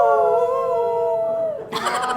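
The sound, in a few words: people howling together imitating dogs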